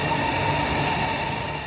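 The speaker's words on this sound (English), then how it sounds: "That was one fast train." Steady, loud rushing roar from inside a high-speed train travelling at nearly 300 km/h in China, a continuous dense rumble with faint tonal hums and no voices.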